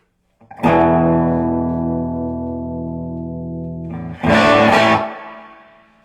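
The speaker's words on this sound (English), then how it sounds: "there's just a ton of tones and effects on this unit." A distorted electric guitar chord rings out through a 75-watt modelling amp and sustains, then a second heavily driven chord strikes and fades with reverb.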